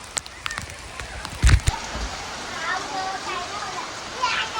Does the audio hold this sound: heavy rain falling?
yes